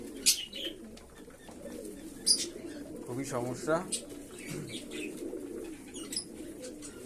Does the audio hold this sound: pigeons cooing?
yes